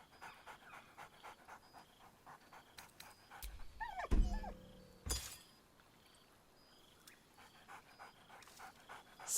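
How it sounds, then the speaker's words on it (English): Scratch, the dog companion in Baldur's Gate 3, pants steadily with a sharp excited bark or yelp in the middle, set against soft in-game ambience and a brief crash partway through. "Scratch barks merrily in something like agreement."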